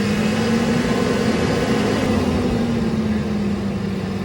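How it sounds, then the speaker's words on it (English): A car engine held at a steady raised speed of roughly 2500 to 3000 RPM for a battery test, a continuous loud hum with a sustained tone and no talk. "turn off all devices and rev the RPM to 2500 to 3000"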